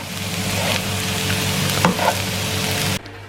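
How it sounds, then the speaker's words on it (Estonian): Potatoes with onion frying in a pan, a loud, steady sizzle with a brief scrape of stirring partway through, cutting off near the end, with no talk. "Nii kaua, kui sul kartulid praevad, saame teha valmis meie salati."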